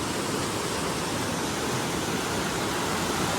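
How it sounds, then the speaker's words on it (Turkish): Spring water pours steadily down inside Kaklık Cave near Denizli, a constant broadband rush of flowing water, close and even throughout with no talk. "Bakın su kaynak suları nasıl sürekli aşağı akıyor."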